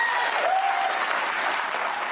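A studio audience applauds in a steady, dense burst of clapping, close and fairly loud, with a brief whoop or cheer rising over it early on.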